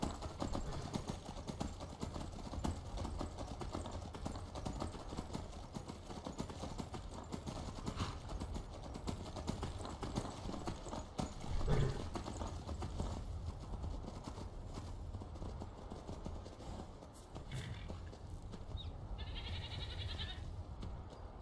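Horses' hooves clip-clop steadily in the video game Skyrim, a continuous rhythmic patter under a dense, busy game soundscape at moderate level for about twenty seconds.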